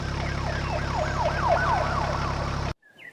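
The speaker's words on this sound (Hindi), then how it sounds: "पुलिस आ जाती है और कालू कौवे को पकड़कर ले जाती है।" A wailing siren rises and falls repeatedly over a steady engine drone, loud and close, then cuts off abruptly near the end.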